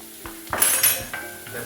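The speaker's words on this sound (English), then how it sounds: "Then we go back to stirring it again." A spoon scrapes and stirs garlic and black pepper seasoned food sizzling in a traditional Dutch pot, a few short clattering strokes over a soft, steady frying hiss.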